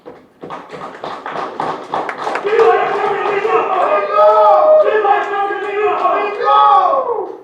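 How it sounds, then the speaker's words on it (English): A Ugandan political crowd claps in quick rhythmic bursts, then shouts and chants, with loud voices rising over the clapping and carrying to the end. "what I demonstrated together with Bobi Wine, we should be given a good clap"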